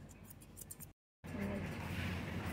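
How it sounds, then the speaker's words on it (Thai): Scissors trim a Siberian husky's fur in a grooming session, with quick, faint, close snips, a short gap, then low ongoing background noise and murmured talk. "สางขนแล้วก็ตัดขึ้นทรงด้วยกรรไกรไว้นะครับ"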